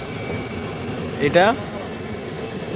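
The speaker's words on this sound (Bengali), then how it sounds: "ওদিক দিয়ে একটা ট্রেন ঢুকছে এখন বঙ্গাইগাঁও স্টেশনে।" A train pulls into New Bongaigaon railway station; a steady rail rumble carries a sharp wheel squeal rising mid-way, and someone briefly says a word nearby.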